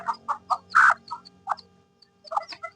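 Series of short, high chick peeps in quick bursts with pauses, close by and fairly loud, with one longer squawk in the middle; a weak, prematurely hatched chicken chick.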